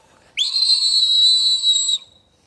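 A voice imitating Godzilla's atomic blast on a trampoline, a single sustained high, piercing whistle-like tone lasting about a second and a half, loud and close, alone.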